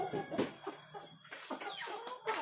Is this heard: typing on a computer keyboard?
no